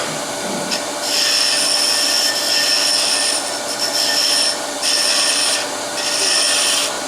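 Rasping and filing a small wooden teardrop earring blank into a taper, heard as repeated close, scratchy strokes in bursts of about a second each, fairly steady and alone.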